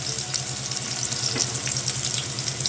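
Brinjal and chillies fry in a pan with a dense, continuous sizzle and scattered spits and crackles, close and fairly loud, under a steady low background hum, with no one speaking.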